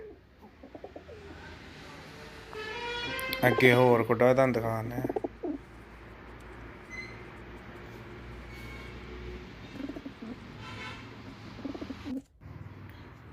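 Malwai pigeons kept in pens coo softly and steadily at the edges while someone talks loudly over them for part of the time.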